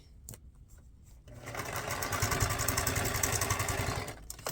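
A sewing machine stitches through strips of paper and fabric scraps, starting with a few clicks and then running in a close, steady, loud mechanical whir for a few seconds before stopping.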